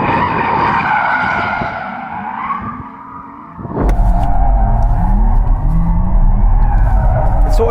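A Porsche Taycan GTS four-wheel-drive electric car spinning out, tires squealing in long wavering howls with loud scrubbing rumble after a short dip, close and intense, no engine note.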